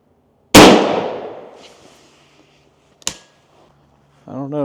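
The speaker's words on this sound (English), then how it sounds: "we'll shoot the Browning out of the Stevens" A Stevens .410 turkey shotgun loaded with Browning shells fires one loud, sharp blast that rings away slowly. A crisp metallic clack follows a few seconds later, and then a voice begins to speak.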